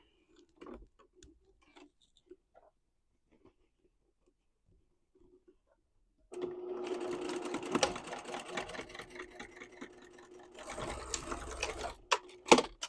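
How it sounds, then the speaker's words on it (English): A home sewing machine stitches a quarter-inch seam across a beginner duffle bag, running in a steady rapid whir for several seconds after a quiet start, then pausing and starting again near the end. "we're just going to sew across here at a 1/4 inch seam allowance"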